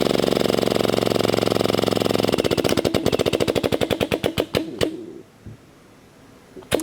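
An XPress 800 JLR workstation setting a self-piercing rivet into a panel at about 50 kN, a steady loud machine drone giving way to a fast burst of rattling clicks that slow and stop, then near silence and a final thump.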